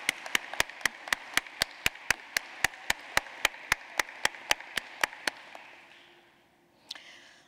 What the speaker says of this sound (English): So let's give the dean, the president of the university, the faculty, and the staff a round of applause